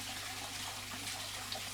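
Culture water full of infusoria being pumped into a leopard danio fry tank, a soft steady gushing trickle with a low pump hum underneath, faint and continuous.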